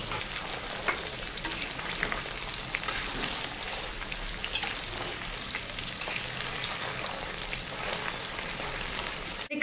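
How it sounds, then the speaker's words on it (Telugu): Pieces of chicken deep-fry in hot oil over low to medium flame, a dense, even crackling sizzle close by, with a sudden loud clatter at the very end. "ఆయిల్ లో వేసేటప్పుడు లో ఫ్లేమ్ లో పెట్టుకోవాలి లేదా మీడియం ఫ్లేమ్ లో పెట్టుకోవాలి"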